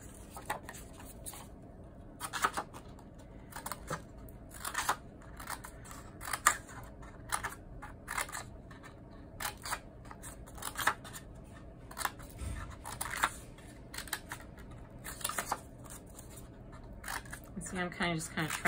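Scissors snip through paper in quick, irregular cuts close by, while someone talks quietly over the snipping.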